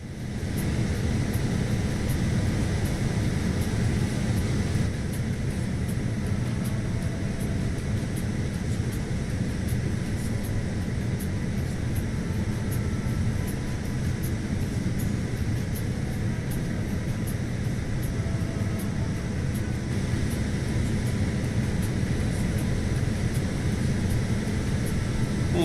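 Steady aircraft engine drone in Microsoft Flight Simulator, flying over Colombo, a constant loud broadband roar with no change across the whole stretch.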